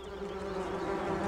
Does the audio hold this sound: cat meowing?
no